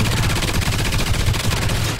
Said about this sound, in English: Hello, stop shooting me in the back, turret.